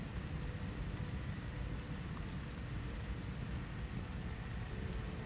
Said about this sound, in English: Is it raining outside again?